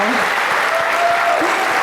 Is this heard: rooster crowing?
no